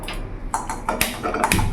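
A metal kadai pan set down on a kitchen stove before cooking bhindi masala fry, giving a few close, ringing clanks and scrapes in quick succession with no talk.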